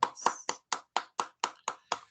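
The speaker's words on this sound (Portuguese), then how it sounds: "A Jesus as nossas palmas." Rhythmic clapping in unison for Jesus at a home religious gathering, about nine sharp, evenly spaced claps in a steady beat, close and clear with no talk.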